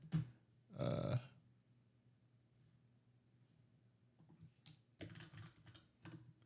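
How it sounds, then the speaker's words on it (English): Sparse clicks and clacks of typing on a Keychron K8 mechanical keyboard, with a louder burst early on and another cluster of keystrokes near the end, recorded close up. "It's a mechanical keyboard, so it's very clicky."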